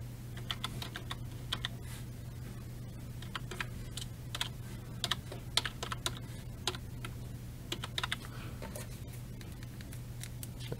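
Steady, quick clicking of keys on a computer keyboard as an Amazon account username and password are entered, close and fairly quiet over a low constant hum, with short bursts and brief pauses.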